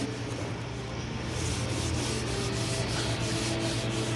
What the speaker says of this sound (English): I take a red Scotch-Brite and just lightly scuff up every area